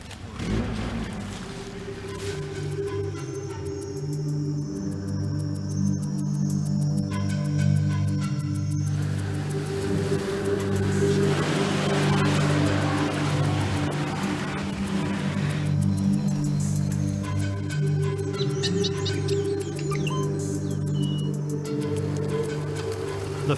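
Four-wheel-drive vehicles driving toward La Corona, with a sustained low engine drone and strained revving over rough ground, steady and fairly close for the whole stretch, with some clatter and swelling effort midway.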